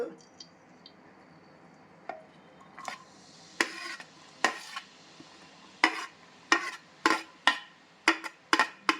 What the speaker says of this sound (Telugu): ఇలా వేసుకొని బాగా ఫ్రై చేసుకుందాం.